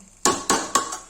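Three sharp metallic clanks come in quick even succession, close by, as a lid is set over a pot of mutton rogan josh.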